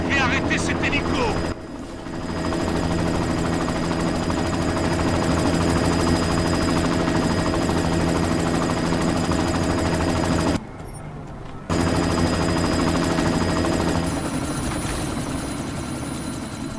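Helicopter in the video game Deus Ex: Mankind Divided, a loud steady rotor and engine drone with gunfire mixed in, dropping out briefly near the end.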